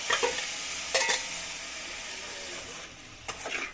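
Palm weevil larvae cooking in a pot, stirred with a few brisk scraping strokes over a steady, hissing sizzle, close by and moderately quiet.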